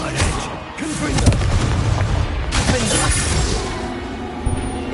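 A Confringo blasting curse from the Hogwarts Legacy game goes off in a string of loud, booming blasts and crashing impacts. The blasts come close together and stay dense and continuous over the whole few seconds, with no clear talk.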